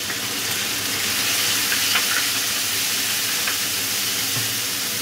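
Spices sizzling in hot oil for a Bengali hotel-style fish curry, turmeric paste and chili powder going in, a steady loud broadband frying hiss with faint stirring scrapes throughout, no voices.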